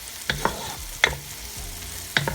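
Onions frying and being stirred in a pot for a cured beef curry, with three sharp scraping stirs spaced about a second apart over a low steady sizzle, close and fairly clear, no talking.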